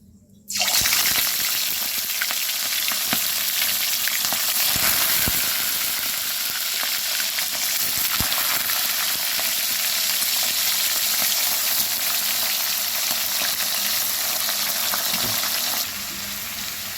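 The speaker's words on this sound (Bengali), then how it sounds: "দেখুন তাহলে মাংসটাকে এরকম হালকাভাবে ভেজে নিয়েছি।" Chicken pieces fry lightly in hot oil, giving a steady, close, bright sizzle with small crackles that holds for the whole stretch and softens slightly near the end.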